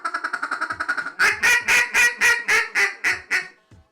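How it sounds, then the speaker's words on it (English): An inexpensive duck call blown in a quick run of short, soft quacks, then a slower series of louder, drawn-out quacks fading at the end, close and alone. "you got yourself a duck call"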